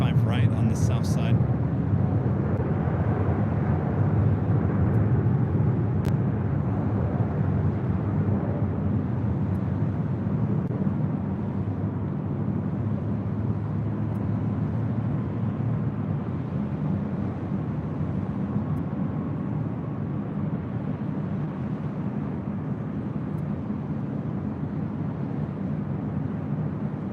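Airliner taking off from runway 25 right on the south side of LAX, a steady loud low roar of jet engines that holds throughout with a slow fade, heard from nearby.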